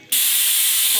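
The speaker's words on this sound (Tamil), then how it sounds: "பச்சைப்பயிறு ஒரு விசில் வந்துருச்சு." Pressure cooker letting off a whistle while green gram cooks in a home kitchen: a sudden loud, steady hissing steam blast that starts abruptly and holds at full strength, close to the microphone.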